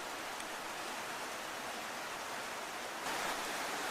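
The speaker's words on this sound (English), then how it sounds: "the rain starts falling." Steady rain falls during preparations for an outdoor Voodoo ritual, a constant broad hiss with no voices that swells slightly louder near the end.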